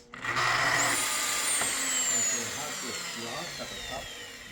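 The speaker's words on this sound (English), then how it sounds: "And we're gonna start cutting it for you guys." Festool plunge-cut track saw cutting 15 mm plywood, a loud close motor whine that spins up sharply, then a steady high buzzing cut that slowly winds down.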